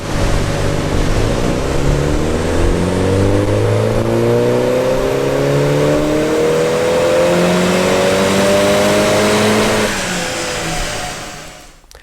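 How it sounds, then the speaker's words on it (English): A Mini F56 Cooper S JCW with the B48 engine and a stage 1 remap revs hard on a dyno, its loud, rising engine note climbing steadily through a long pull before it cuts off and winds down. "we'll start the car and we'll run it on the dyno and we'll see what power it makes with our stage 1 map"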